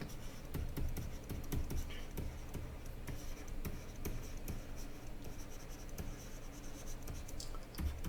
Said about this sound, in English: I'm going to write that word